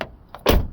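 A Jeep Grand Cherokee door, newly fitted with a replaced seized hinge and realigned, swings shut with a single solid, close thump after a faint click, with no talking.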